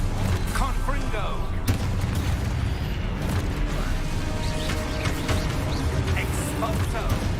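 Confringo fire spells blast in the Hogwarts Legacy video game, a busy run of booms, crashes and crackling impacts under a player's excited shouting.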